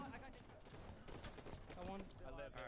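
Rapid bursts of video-game gunfire crackle through a competitive shooter match, dense and sustained across the clip, with rockets among the weapons and a voice talking over the action.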